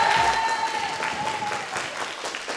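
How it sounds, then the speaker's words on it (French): A school audience gives a short, lively burst of applause for a slam poet, many hands clapping together at a steady level, briefly topped by a thin high tone at the start. "on peut l'applaudir bien fort"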